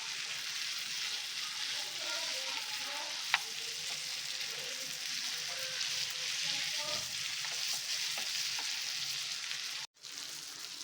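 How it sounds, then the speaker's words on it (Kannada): Bangada (mackerel) fish fries on a tawa with a soft, even sizzle and crackle that runs steadily throughout, faint and close, with a few small taps and no voices. "ಆ ಕಡೆ ತಿರುಗಿಸಿ ಚೆನ್ನಾಗಿ ಫ್ರೈ ಮಾಡಿ."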